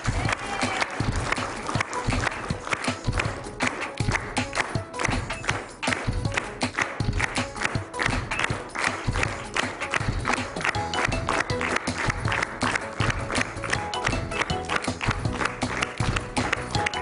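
Steady, dense clapping from a studio audience cheering on a girl named Naya during a timed drawing challenge on a television show, continuous and rhythmic alongside music, with loud thumping beats throughout.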